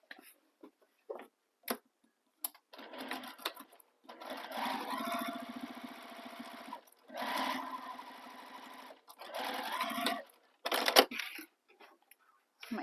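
A sewing machine top stitching the top edge of a crossbody bag, clipped at the sides, runs in several bursts of rapid whirring stitches separated by pauses and small clicks, close and clear.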